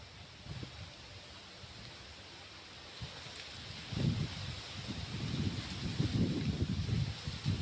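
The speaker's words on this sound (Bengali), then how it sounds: "আরে এত হাওয়া দিচ্ছে আজকে, হ্যাঁ প্রচুর হাওয়া দেয়, ঝড়ের মতন।" Strong, gusty outdoor wind buffeting the microphone as a rough, low rumble that builds and stays heavy toward the end, with rustling under it and no talking.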